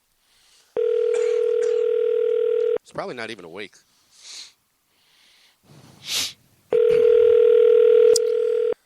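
Unanswered telephone call: two long steady ringback tones, about two seconds each, clear and close, separated by a stretch of quiet muttering and a sniff or sneeze.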